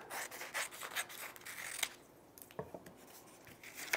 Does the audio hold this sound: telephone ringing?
no